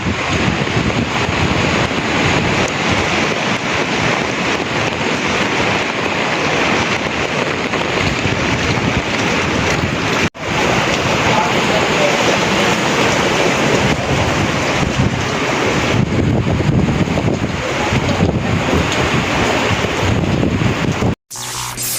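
Strong typhoon wind roars against the microphone with ocean waves crashing beneath, a loud continuous rush broken by a couple of abrupt dropouts.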